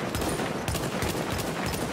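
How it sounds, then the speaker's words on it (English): A normal machine gun firing explosive rounds in a video game bursts in rapid, dense volleys of close, loud shots that run continuously with no speech. "I just use explosive rounds there with the normal machine gun"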